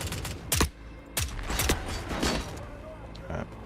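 M16 rifle firing in The Forever Winter, with a few sharp, loud shots in short bursts near the start and middle, then quieter mechanical clatter and gear noise.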